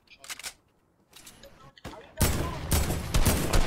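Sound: gunfire in the video game Fortnite

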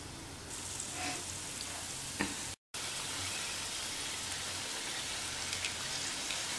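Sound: somas sweets frying in hot oil

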